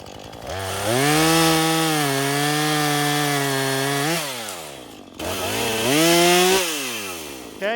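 A Husqvarna 440 chainsaw cuts through wood in two loud, close passes, the engine pitch rising and holding steady through each cut before dropping back, with a short gap between.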